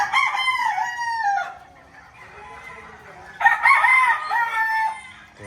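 Gamefowl stags crowing nearby, two long loud cock-a-doodle-doo calls separated by a short pause, with faint clucking and farmyard background.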